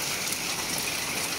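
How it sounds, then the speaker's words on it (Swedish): Hail falls in a steady, dense hiss of countless small impacts, loud and continuous, with no voices. "det haglar"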